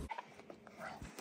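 A neighbor's dog gives a few faint, distant whimpering yips outdoors, brief and quiet against light background noise.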